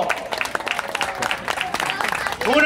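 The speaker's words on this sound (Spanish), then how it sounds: "Un aplauso para aquel niño." Scattered, uneven clapping rises from a small audience at a Don Quijote riddle workshop, applauding a child, with a voice breaking in briefly near the end.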